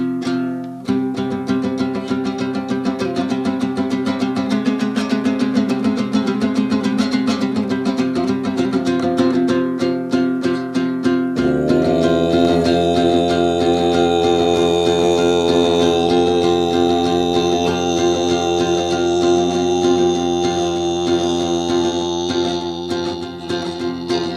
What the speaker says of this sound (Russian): Первый стиль голового пения, нижний стиль, это каркара.